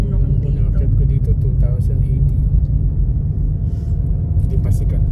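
Steady stream of cars driving past on a road near a campsite in Real, Quezon, a dense continuous rumble with occasional passing swells, fairly loud and close, while people talk over it.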